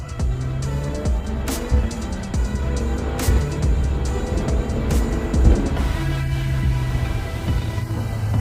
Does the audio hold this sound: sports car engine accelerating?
yes